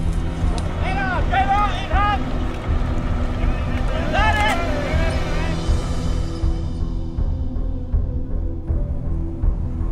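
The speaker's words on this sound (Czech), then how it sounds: "je slyšet motor!" A motor engine rumbles as a steady low drone under gusty wind, while voices speak and shout over it in the first half.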